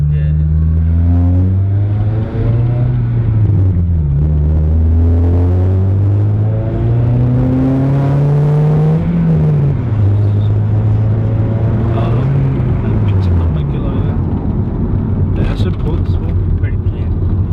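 A tuned Honda DC5 engine revs loud and close, its pitch rising and falling through repeated throttle blips with a steady rumbling idle underneath for the whole stretch.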